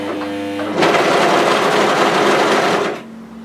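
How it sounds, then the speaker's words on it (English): Serger overlocker sewing machine running fast as it stitches and gathers fabric: a quiet lead-in, then a loud even whirring burst for about two seconds that stops abruptly, up close with no talking. "Then present your fabric to your machine and serge as normal."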